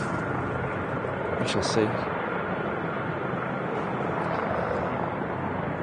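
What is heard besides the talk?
helicopter hover taxiing at Manchester Airport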